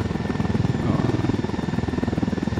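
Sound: helicopter flying and landing in the video game Ghost Recon Wildlands

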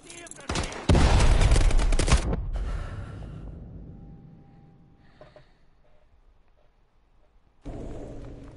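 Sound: flashbang explosion and gunfire in video game Call of Duty: Advanced Warfare

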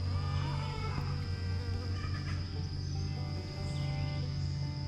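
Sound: bees buzzing around flowers

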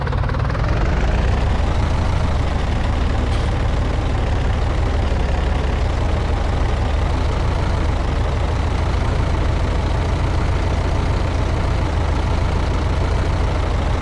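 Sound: tractor engine idling and driving in Farming Simulator 19 video game

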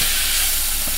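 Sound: chicken egg roll filling simmering in a pan

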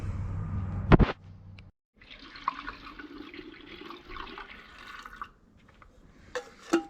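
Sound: pouring petrol and oil into Stihl MS 250 chainsaw

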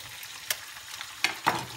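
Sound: bacon frying in a pan for spaghetti carbonara

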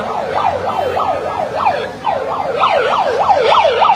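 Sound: siren wailing in crowd

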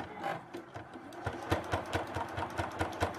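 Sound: sewing machine stitching a Christmas stocking seam

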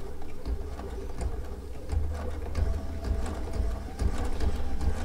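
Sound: Baby Lock sewing machine stitching with metallic thread

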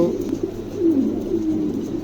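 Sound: pigeons cooing

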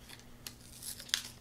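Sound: trimming excess paper while card-making

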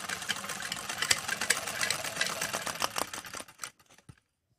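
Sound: sewing machine stitching

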